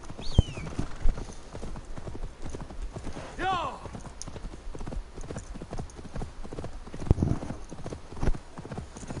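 Horse hooves clip-clopping in a steady trotting rhythm in a Norse video game, with a brief whinny and someone talking intermittently over the hoofbeats.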